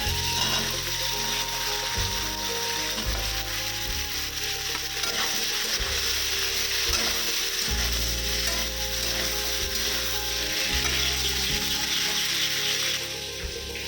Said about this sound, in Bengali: সবজিটা ভাজা হতে হতে আমি এদিকে মশলাটা করে নিচ্ছি